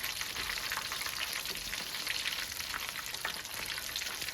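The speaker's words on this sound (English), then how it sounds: "We want to cook the egg rolls for 2 to 3 minutes. Just flipping one time" Egg rolls filled with collard greens and black-eyed peas fry in a pan of oil, giving a steady, even crackling sizzle close by with no voices.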